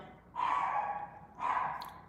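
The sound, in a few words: dog barking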